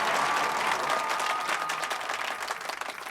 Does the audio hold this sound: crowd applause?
yes